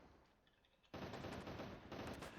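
Rapid automatic gunfire in an Unreal Engine first-person shooter game bursts in suddenly after a quiet start and continues loud and dense to the end.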